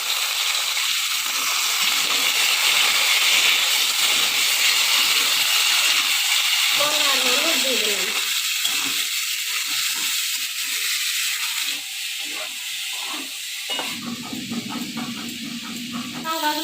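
Pointed gourd, potato, flat beans and radish fry in oil, giving a loud, steady hiss and sizzle that runs the whole time, close up, with a voice talking over it.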